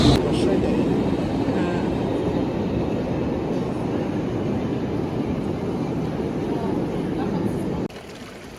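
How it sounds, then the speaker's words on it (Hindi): A tram rolls past on a street in Bern, Switzerland, a steady loud rumble of wheels and motor that holds for about eight seconds before dropping away abruptly. "और ये जा रही है ट्राम।"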